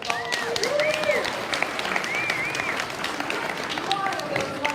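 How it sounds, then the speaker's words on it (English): Audience applause for the volunteers at a National Honor Our LGBT Elders Day event in Baltimore: steady, fairly close clapping throughout, with bright tonal chirps rising and falling over it and voices mixed in. "Can we have a round of applause just for the folks of volunteers?"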